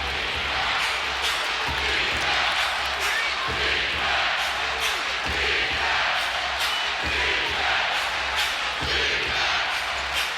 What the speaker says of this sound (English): How about this crowd and this atmosphere right here? They're all up on their feet.